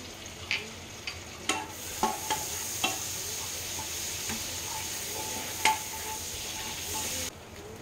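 Dried powdered garlic frying in melted butter in a pan, a steady close hiss with a series of crisp spoon taps and scrapes against the metal, moderate in level, ending abruptly, no talk.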